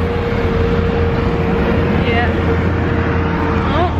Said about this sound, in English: Oh, sorry for that noise, that was the bus.